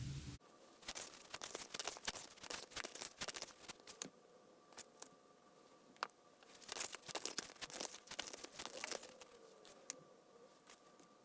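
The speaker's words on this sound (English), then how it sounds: "So I'm going to shuffle some more cards" Crisp, rapid riffling and flicking of tarot cards being shuffled, repeated in several bursts with short pauses, close up and fairly quiet.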